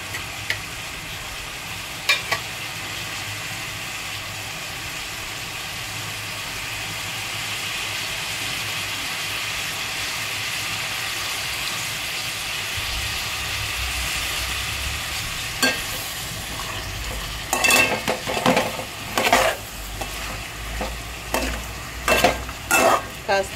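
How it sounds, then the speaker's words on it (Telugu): Chopped vegetable pieces fry in hot oil with a continuous close sizzle. Near the end, sharp clatters and scrapes of stirring break in, with no speech. "ఆయిల్ వేడెక్కుతూ ఉంది. ఇంకా ముక్కలు కొంచెం మగ్గుతూ ఉంటాయి."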